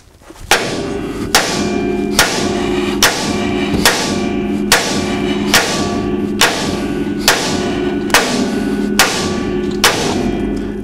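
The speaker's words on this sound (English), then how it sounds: "hit this ball joint with a hammer" Steel hammer blows striking a ball joint on the front control arm of a 1969 Chevelle, about a dozen loud, evenly spaced metallic thuds with ringing decay over a low steady background hum, no speech.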